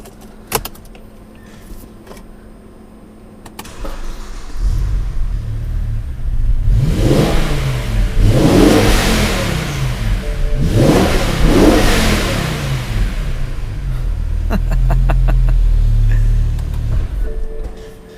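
A BMW M5 E60 with its V10 engine and six-speed manual gearbox cranks and fires up, then revs hard in two sharp rising-and-falling bursts before settling into a loud, steady idle, close by with no talking.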